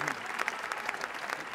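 A crowd applauds with steady clapping, moderately loud, over a brief stretch, at the Cannes 2023 film festival.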